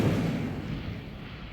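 Incendio fire spell cast in Hogwarts Legacy, a loud low whooshing burst of flame that roars at once and slowly tapers off over about a second and a half.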